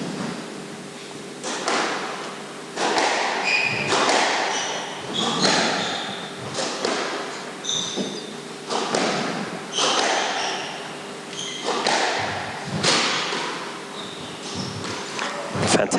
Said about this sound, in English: Fantastic shot from Blatchford